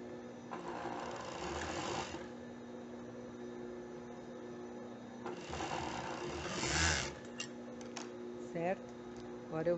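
Sewing machine stitching the lining of a half-cup bikini top, running in two sustained bursts with a pause between, close and steady, with someone talking quietly in between.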